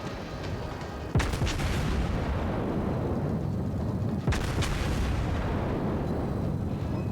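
Heavy naval guns from the battleship New Mexico fire in a warship video game, two loud booming salvos about three seconds apart over a constant rumbling engine and sea bed.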